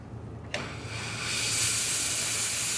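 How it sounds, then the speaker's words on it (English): An espresso machine's four-hole steam tip opens with a sharp click and then a broad, steady hiss that swells louder and holds, close by and with no talking. "Now I'd like to show you the steam pattern that comes out of a four hole."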